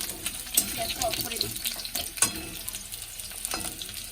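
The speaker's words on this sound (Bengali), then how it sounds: "এই যে আলু ভাজা হচ্ছে" Potatoes fry in a home kitchen pan with a soft, continuous sizzle, broken by scattered clicks and scrapes of stirring, fairly faint and close.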